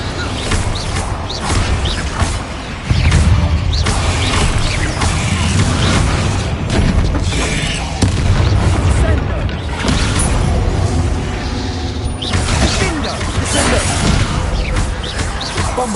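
Bombarda spell blasts booming and crashing in Hogwarts Legacy, a dense run of loud explosive impacts and debris smashes with no break, heavy low rumble throughout, layered with game effects and chatter.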